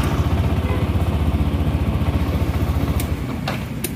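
The starter on a Yamaha NMAX scooter, engaged by jumpering the starter switch, cranks with a rapid pulsing engine chug, then slows and fades while a few sharp clicks sound near the end.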